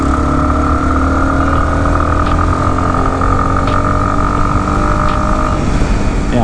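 A Yamaha XT250 motorcycle engine hums steadily and loudly while the rider downshifts, with a constant mid-pitched drone, a few faint clicks, and no speech.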